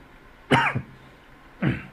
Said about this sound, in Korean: 갑자기 기침이 나네요